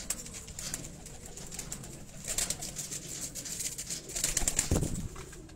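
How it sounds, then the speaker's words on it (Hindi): Shahzor breed pigeons coo softly in a loft, with scattered bursts of wing flapping rising over a quiet background. "ये मलिक साहब की शाहजोर ब्रीड है"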